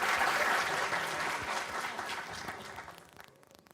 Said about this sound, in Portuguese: Mais uma vez, uma salva de palmas para a Rafaele, pessoal.